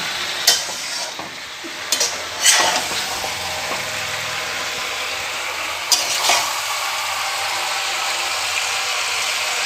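Chicken curry stirred and frying in a pan, with a steady sizzle throughout and several sharp scraping strokes of a spoon against the pan at irregular intervals, close and clear, with no talking.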